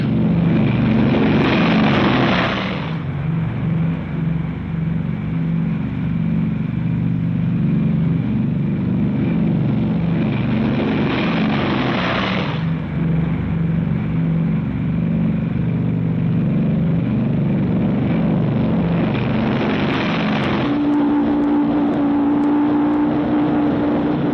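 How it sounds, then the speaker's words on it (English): Several 1945 Boeing B-29 bombers, 67-ton four-engine piston aircraft, taking off one minute apart: a loud continuous engine drone with deep propeller throb and three rising surges of power, no talking. "B-29 takeoffs are a tough sweat."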